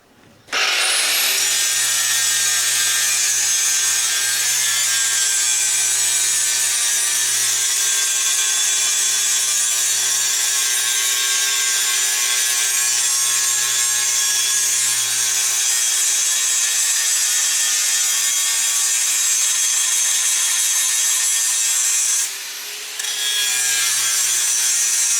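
Angle grinder grinding metal in a workshop, a loud, steady high-pitched whine with abrasive rasping that runs continuously for the whole stretch, dipping briefly near the end before resuming.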